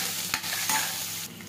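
A small amount of onion goes into a hot pan of oil seasoned with asafoetida for a methi sabji, sizzling loudly and steadily close by, with brief stirring scrapes and no voices.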